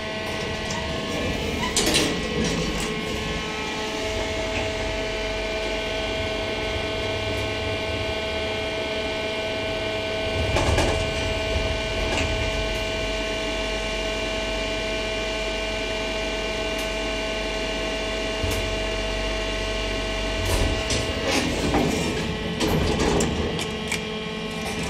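A cheap Boral hydraulic elevator runs in an office building basement, a steady mechanical hum with a constant tone throughout, broken by a few brief clunks and clatters near the start, the middle and the end.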